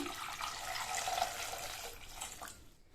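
Water pours steadily into a pressure cooker over potatoes with a broad hissing rush, fairly close, tapering off near the end; no talking.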